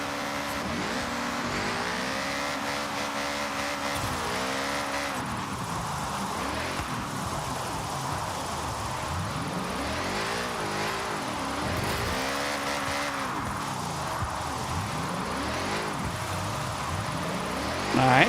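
Porsche in Forza Horizon 6 drifting downhill on a road course, its engine revving up and down in repeated swooping sweeps with tire noise, loud and continuous, without talk.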